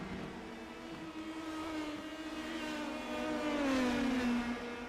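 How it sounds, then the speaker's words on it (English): Race car engine at Mexico Speedway during the Tuesday Night Thunder Shock Series, holding a steady high drone that winds down in pitch as the car enters the turns, fairly loud and with no talk over it. "I'm listening to the engine, and you can hear it wind all the way down when he starts these turns"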